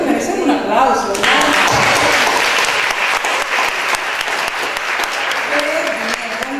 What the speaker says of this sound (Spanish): Yo creo que merecen un aplauso